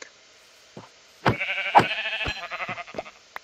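A sheep in a video game bleats in a few wavering, close calls between short clicks and game sounds.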